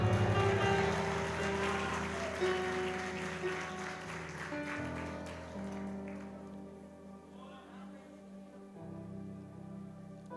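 A church congregation applauds during a worship service, a soft, rain-like patter of clapping over sustained keyboard chords that gradually fades away.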